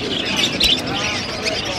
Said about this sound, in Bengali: অনেক পাখি আছে আপনারা চাইলে নিতে পারেন।